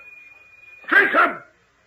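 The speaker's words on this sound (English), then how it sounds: "The old hound dog, Damon." An old hound dog in a radio drama gives a short burst of two close, loud barks that fade out, following a steady tone.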